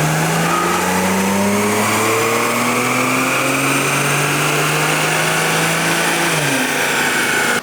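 A car engine on a dyno, tuned with a back-end flash and JB4 piggyback, revs hard and steadily climbs in pitch for several seconds under heavy load, loud and close, then drops off abruptly near the end.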